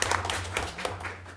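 Brief burst of applause from a group at a school board meeting, steady scattered clapping for about a second and a half with a low hum underneath.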